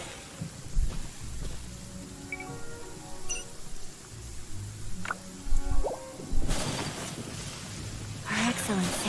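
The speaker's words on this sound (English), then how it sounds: "Find shelter from the rain." Steady rain with a swell of rumbling thunder in the video game Genshin Impact, a broad hiss under game music and voices, growing louder and heavier near the end.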